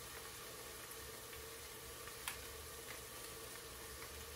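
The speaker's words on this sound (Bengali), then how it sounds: "আমি মশলাটার সাথে পেঁয়াজটা খুব ভালো মতো ভুনা করে নিব" Onions frying with tehari spice mix in a pan, a steady low sizzle and hiss with a few soft stirring clicks, even and faint throughout, no voices.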